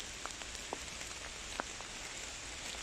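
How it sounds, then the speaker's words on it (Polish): Heavy rain pouring down in a forest during mushroom hunting, a dense, steady hiss of rainfall with scattered close drops tapping on nearby surfaces, fairly soft overall and with no talking. "O Boże, zobaczcie jak leje."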